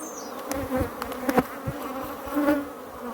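Africanized honey bees buzz around an old hive frame holding nectar and a little honey, with close, droning wingbeats swelling and fading as individual bees pass nearby.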